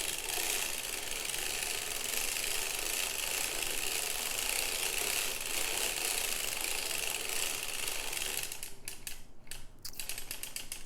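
A sock knitting machine is cranked steadily through four rows of a lace sock, a continuous dense mechanical clatter that is close and even, with a few separate clicks as it stops near the end.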